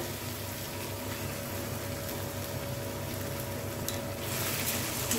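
Whisked sour yogurt goes into frying biryani masala for paneer biryani, a steady dense sizzle running throughout with a slight swell near the end, close and loud, with no voices.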